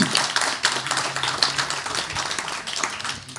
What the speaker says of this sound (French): je vous l'encourage à l'applaudir